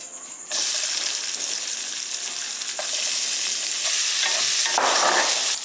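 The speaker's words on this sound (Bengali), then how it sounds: "এইবার পেঁয়াজটা দিয়ে দেবো" Onions drop into hot oil left from frying shrimp and burst into a sudden loud sizzle, then keep up a strong steady hiss with stirring crackles and no talk.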